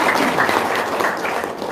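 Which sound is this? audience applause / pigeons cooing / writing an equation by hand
audience applause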